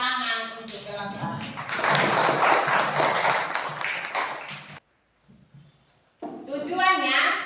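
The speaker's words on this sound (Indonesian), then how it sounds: "Tepuk tangan untuk Elsa." A class of children claps for a classmate named Elsa in a school lesson, a dense burst of many hands lasting several seconds over young voices, dropping to near silence, then children's chatter returns.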